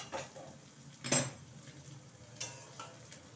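Cauliflower tipped into hot oil in a pan, giving one sharp loud clatter and hiss, with lighter scraping and faint sizzling after it, alone with no voices.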